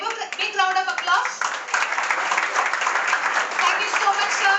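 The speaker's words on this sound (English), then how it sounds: "Let us all give them a big round of applause." Applause at the inauguration of aerospace, anatomy and culinary art labs: a roomful of people clapping steadily, fairly loud and close, sustained throughout, with some voices mixed in near the start.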